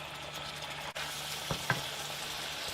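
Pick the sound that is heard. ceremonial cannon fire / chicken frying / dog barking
chicken frying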